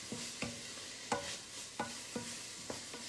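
Vegetables for a vegetable soup being stirred in a pot, a quiet low sizzle broken by a regular series of about seven spoon knocks and scrapes against the side, near and without speech.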